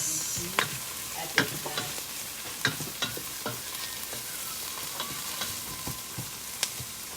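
Chicken adobo sizzles steadily in a pan while a utensil stirs it, with sharp clicks and scrapes scattered irregularly over the constant frying hiss.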